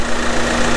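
A hydrogen carbon-cleaning machine runs with a steady, even mechanical hum and a constant low tone, close by and fairly loud, with no voices over it.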